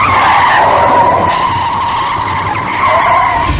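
A car skids off a highway onto dirt with a loud, sustained tire squeal over a rumbling roar of engine and road noise, close and continuous, with no voices.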